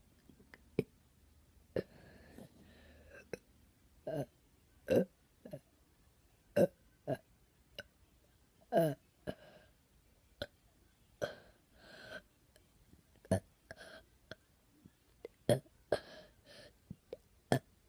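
A person burps again and again in short sharp bursts, some drawn out and croaky, spaced irregularly across a quiet room with faint breathing between.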